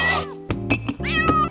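A cat meows three times in quick succession, each cry a loud, close, drawn-out wail with a rising and falling pitch and short pauses between.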